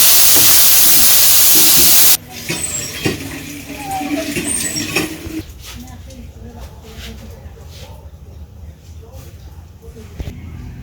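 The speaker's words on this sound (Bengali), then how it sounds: "মাছের সাথে পেঁয়াজ ভালো করে ভেজে নিচ্ছি" Onions and fish frying together in a pan in a village-style kitchen, a steady close sizzle and hiss after a loud burst at the start, with occasional clinks of a utensil against the pan.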